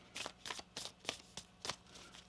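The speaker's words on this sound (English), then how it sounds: "One more shuffle here." Moonology oracle cards being shuffled, a series of crisp riffling bursts at a steady rhythm, close and fairly quiet, with no talking.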